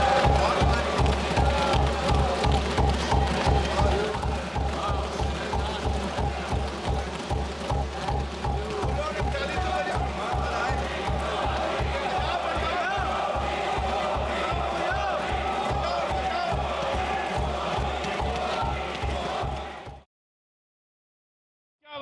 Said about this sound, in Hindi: उधर ताली बजी और इधर भी ताली बजी।